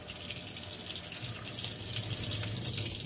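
Hot water runs continuously from a tap through a clogged fine-tip glue bottle nozzle, a steady hissing splash that thickens slightly midway and carries on alone.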